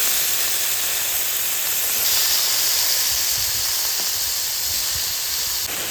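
Potatoes fry in oil left over from frying eggplant, producing a loud, steady, unbroken hiss throughout, close by and with no talking.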